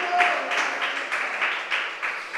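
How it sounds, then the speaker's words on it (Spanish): Congregation applauding in a church service, a steady wash of many hands clapping with rhythmic swells, fairly close and alone without talk. "¿Cuánto le dan aplausos al Rey de Gloria?"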